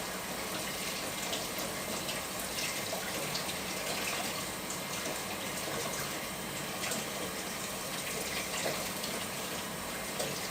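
Steady, full gush of water pouring from a kitchen tap during rinsing, continuous and close with no breaks.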